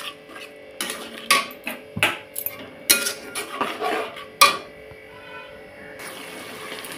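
A spatula scrapes and stirs spice paste with a little water in a pan, where chilli was fried earlier, giving irregular metallic clanks and scrapes close by with no talking.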